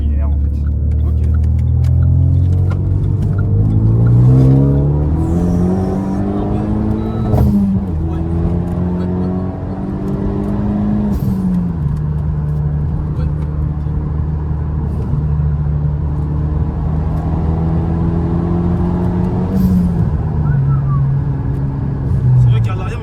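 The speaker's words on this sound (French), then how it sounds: "enfin je l'entends très bien l'échappement" A car in extreme driving mode is heard from the rear seat, its exhaust and engine droning loudly with pitch rising and dropping through gear changes, under steady conversation between occupants.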